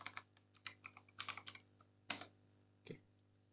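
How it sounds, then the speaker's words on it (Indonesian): Keys clatter on a computer keyboard as a router command is typed into a static IPv4 routing configuration, a quick burst of close, crisp clicks followed by a few separate keystrokes with brief pauses, no voices. "Di sini kita ketikkan show IP interface brief"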